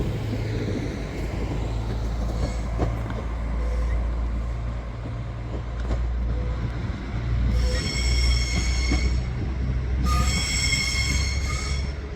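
A train passes through Hereford railway station, its wheels squealing loudly against the rails over a steady low rumble, with the screech swelling twice toward the end as the carriages roll by close at hand.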